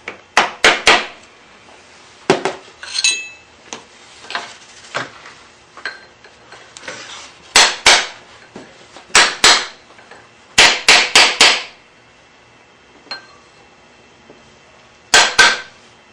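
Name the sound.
hammering bent tab washer flat on BMW F650GS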